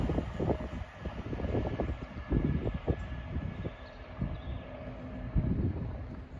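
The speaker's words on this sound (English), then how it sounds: "Passing through now is an LNER service from London King's Cross to Edinburgh Waverley." An LNER train from London King's Cross to Edinburgh Waverley passes through Cramlington as a low, rumbling roar with uneven surges and gusty wind buffeting on the microphone, heard from trackside without voices.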